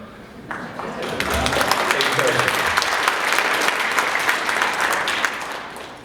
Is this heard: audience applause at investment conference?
yes